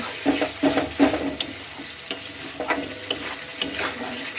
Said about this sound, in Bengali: এবারই মশলা ভাজা হয়ে এসেছে